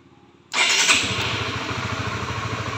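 A 2022 Yamaha R15 V3 motorcycle starts up with a sudden loud crank and catch and settles into a steady, pulsing idle close by as it begins warming up.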